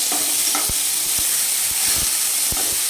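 A ripe tomato fries in a pan with mustard, poppy seed and green chili paste, giving a dense steady sizzle broken by several dull spatula knocks against the pan.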